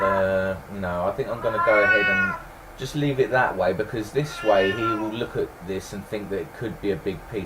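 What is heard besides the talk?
cat meowing loudly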